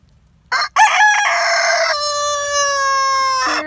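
A rooster crows once, loud and close: a short opening note, then a long, drawn-out call with a falling end.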